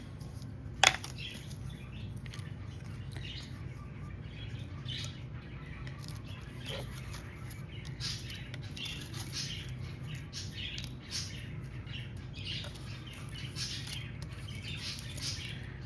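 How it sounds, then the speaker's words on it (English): Pet birds indoors during a crafting session, giving one sharp loud squawk near the start, then scattered chirps and small calls over a steady low background hum. "My birds just get so chatty with y'all."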